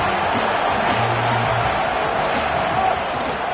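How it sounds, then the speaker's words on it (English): Home crowd in the Madden football video game cheering and roaring as a steady, loud wash of stadium noise throughout, with no clear peaks. "this home crowd getting involved right from the start"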